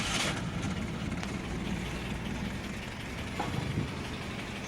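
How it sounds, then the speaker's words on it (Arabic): A Renault 25 engine fitted into a Renault 12 chassis runs steadily at idle, with a low rumble and a faint, irregular knocking tick throughout, close and continuous. "اسمعوا النقرة تاع الموتور اول مرة"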